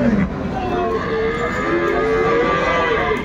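A dairy cow at a cattle market in Aftabganj, Dinajpur, lets out a long, loud, drawn-out moo close by, its low tone rising and falling with steady background noise throughout.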